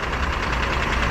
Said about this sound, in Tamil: இன்ஜின் சவுண்டு கேட்குதா